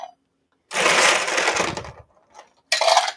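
Ice cubes clatter into a vintage 1930s whiskey glass in one long, loud rattling pour, followed after a short pause by a brief second clink as more ice drops in.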